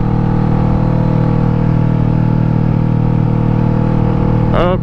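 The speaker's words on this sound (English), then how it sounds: "Was able to jump on the bike" A Kawasaki Ninja 650 motorcycle cruises along with a steady, loud engine drone and wind rush throughout, with a brief rising engine sweep just before the end.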